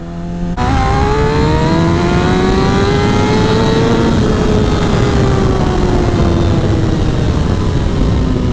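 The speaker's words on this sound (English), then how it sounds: "That was my first wide open throttle all the way to red line." Suzuki GSX-R1000 motorcycle running on E85 fuel, engine roaring loud and close at wide open throttle, pitch climbing steadily toward redline over several seconds, then holding high with a slight dip, no talk.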